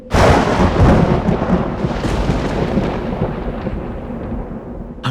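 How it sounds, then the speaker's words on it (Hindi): Loud thunder from an approaching storm cracks and then rolls on in a long rumbling decay over several seconds, close and heavy, with no voices. "लगता है कोई बहुत बड़ा तूफान आने वाला है।"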